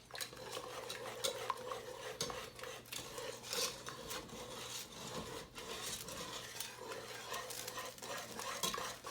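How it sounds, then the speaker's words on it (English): A sauce being whisked smooth in a pot as it thickens for a pasticcio, steady rhythmic scraping and metal whisk strokes close by with no talking. "It's getting very thick, but that's what we want. Make sure you whisk it smooth."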